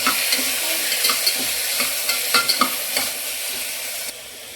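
Tomato fries in a pan with onions and ginger garlic paste for mixed vegetable rice: a loud continuous sizzle with repeated scraping stirs, close up and with nobody speaking.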